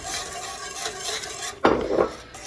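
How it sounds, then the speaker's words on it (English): Gravy for biscuits and gravy being stirred in a pan: soft scraping and clinking of a utensil against the pan, with a louder burst of scraping near the end. "So now I'm just gonna mix this nicely."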